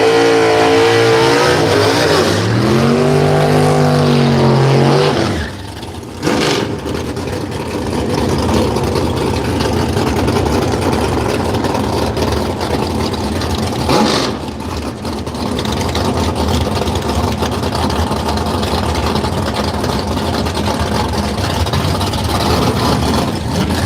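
A Copo Camaro launching at a radial drag racing event at Willowbank, Australia: a loud engine rises through a revving surge, then a sustained roaring run down the strip with a brief dip midway.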